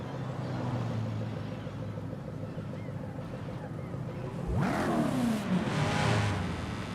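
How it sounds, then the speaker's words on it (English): Supercharged 5-litre engine idling in the Forza Horizon 5 racing game, a steady low rumble that swells into a louder rising rev with a sweeping pitch partway through. "I like the idle. That's a very unique idle sound."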